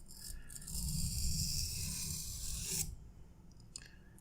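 A kitchen knife is drawn across a Sharp Pebble waterstone, one close wet gritty scraping pass lasting about two seconds, followed by light taps and small handling noises.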